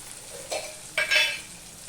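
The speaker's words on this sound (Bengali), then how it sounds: "আমি সম্পূর্ণটা কষিয়ে নেব যতক্ষণ না টমেটোটা নরম হয়ে যায়" Green chillies and tomato frying in a pan with turmeric for a sweet pumpkin greens dish, a quiet steady sizzle with two brief louder bursts of crackle as ingredients hit the oil.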